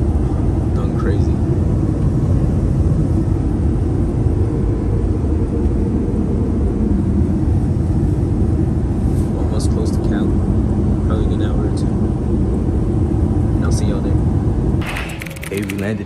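Steady, loud engine and propeller drone fills the cabin of a small passenger plane in flight, with brief faint clicks and a short burst of rustling near the end.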